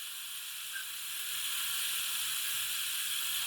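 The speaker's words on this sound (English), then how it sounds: "You can hear the steam going in now." Steam hisses into a Rapido fireless locomotive model as a sound function, a steady airy rush swelling slightly midway and holding level, faint and alone.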